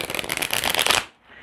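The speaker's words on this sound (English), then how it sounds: "one more shuffle of this little deck" A small Ethereal Visions tarot deck is riffle-shuffled close up, giving a dense crisp flutter of cards for about a second that stops abruptly and is followed by near silence.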